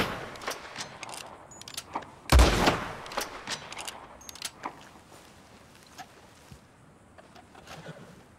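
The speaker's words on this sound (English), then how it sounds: "Put another shot in close." A single loud gunshot cracks out in a Red Dead Redemption 2 ranch scene, standing out sharply against a quieter background of scattered clicks and outdoor ambience.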